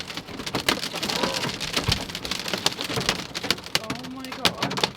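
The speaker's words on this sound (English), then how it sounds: "There's a storm coming! Here comes the hail!" Hailstones pound down hard in a storm, a dense continuous clatter of impacts on surfaces with sharper cracks scattered throughout, loud and close, with brief voices and faint rumbles mixed in.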